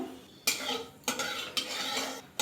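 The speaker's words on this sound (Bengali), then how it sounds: "কালো জিরেটা হালকা ভাজা হয়ে গেছে" Nigella seeds frying in a small amount of hot mustard oil, a steady close sizzle broken by three sharp scrapes of a spoon stirring against the pan.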